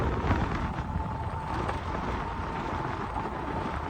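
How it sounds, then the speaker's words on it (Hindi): Strong storm wind gusting at Mangla Dam in Mirpur, Azad Kashmir, a steady loud roar buffeting the microphone without break, with choppy water and heavy rain around the reservoir shore. "इतनी तेज़ हवा है"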